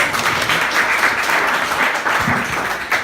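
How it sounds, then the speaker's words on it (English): Audience at a business pitch night applauds a speaker, a close, full burst of steady clapping lasting the whole moment with a few scattered voices underneath. "Kurt, give a big round of applause."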